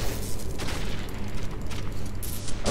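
Gunfire rattles in the video game Metro 2033, with dense bursts of shots and booms over a murky rumble. The shooting is continuous and fairly loud, with no speech.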